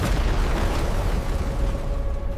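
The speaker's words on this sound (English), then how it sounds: "a deafening sonic boom ripped through the air" Eruption of Vesuvius at Pompeii rendered as a deep rumbling boom, a loud sustained low roar that slowly fades across the short stretch, with no voices.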